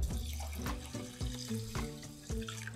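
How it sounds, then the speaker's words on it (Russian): Rice is rinsed under running tap water in a kitchen, water splashing steadily into a bowl with rhythmic swishes and pours repeating about every half second, close and fairly quiet. "первое, что нам нужно сделать, это хорошенько пару раз его промыть под проточной водой"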